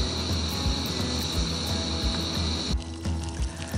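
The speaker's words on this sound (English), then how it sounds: "our water's come to a boil" Water in a pot at a rolling boil gives a constant rushing bubble, with soft low thumps and a steady hiss. It quiets abruptly toward the end.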